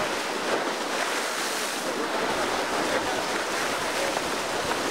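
Sea waves washing onto a beach on Aegina island in Greece, a steady broadband surf hiss with gentle swells, mixed with wind buffeting the microphone, no voices.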